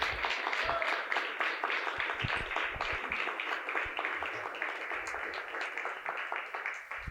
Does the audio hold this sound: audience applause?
yes